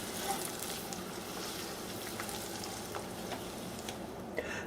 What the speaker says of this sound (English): We will saute them until they go a little limp.